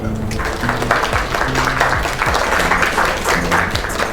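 An audience claps and applauds after a singer's performance, a sustained crowd of hands with some voices mixed in.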